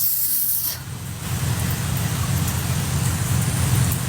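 Steady rain falling and pattering on surfaces, a continuous broadband hiss that holds at an even level for several seconds with no voices.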